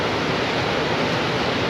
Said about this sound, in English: these are really quite big waves